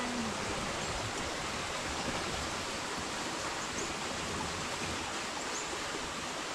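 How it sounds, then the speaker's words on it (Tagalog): Water from a mountain spring flows steadily into a river, a constant broadband rush that stays even and moderately loud throughout, with no voices. "Bukal po yan, kaya po hindi po nauubusan ng tubig."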